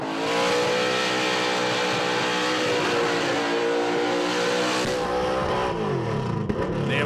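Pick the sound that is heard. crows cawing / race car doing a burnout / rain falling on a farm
race car doing a burnout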